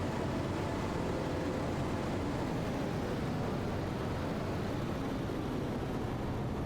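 Steady droning engine of a John Deere tractor in a farming simulator game, a constant dense noise holding at the same level throughout with no talk over it.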